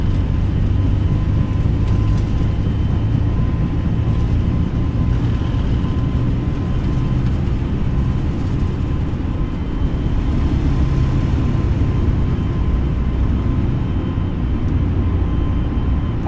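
Aircraft engine roar during a takeoff roll in Microsoft Flight Simulator 2020, departing Heathrow, a loud continuous broadband drone with a steady rumble that holds without pause throughout.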